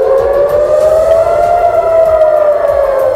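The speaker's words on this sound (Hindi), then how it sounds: "गाजा से लगे इजरायल के इलाकों में चेतावनी के सायरन बजने लगे" A loud warning siren in an Israeli area near Gaza wails steadily with a sustained, slowly rising and falling tone, no voices present.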